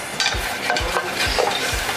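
Curry powder, turmeric and allspice stir-fry in a pan for a spicy curry, a close sizzle broken by rhythmic spatula scrapes about every half second, with no talking.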